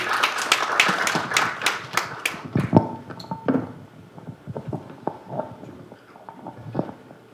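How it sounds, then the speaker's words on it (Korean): Scattered clapping from a small audience at a public hearing on an AI technology development project as panelists are introduced, a brief burst of claps that tapers into sparse, irregular individual claps and taps. "박수 부탁드리겠습니다."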